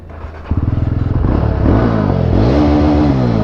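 A motorcycle engine struggles to start, firing in a fast, sputtering putter with popping backfires before settling into a rough, loud idle close by.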